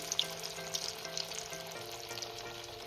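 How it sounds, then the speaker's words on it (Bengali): Lentil and onion fritters (piyaji) slipped into hot oil keep up a steady, dense sizzle, with light crackle and small pops running throughout at moderate level, with no voices. "আবারও আমি এভাবে তেলের মধ্যে ছেড়ে দিচ্ছি"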